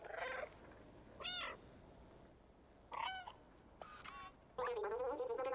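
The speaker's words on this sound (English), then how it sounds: "Let's meow our appreciation." A cat meows repeatedly in the video game Stray, several distinct meows spaced a second or so apart over quiet background, the last one drawn out and louder.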